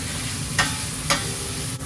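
Pork with onion and garlic stir-frying in a pan, a continuous close sizzle broken by two sharp scraping strokes of the spatula, no talking.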